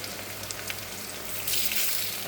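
Gondhopata leaf fritters fry gently in oil over low heat, giving a continuous soft crackling sizzle that grows a little brighter toward the end, with no talking.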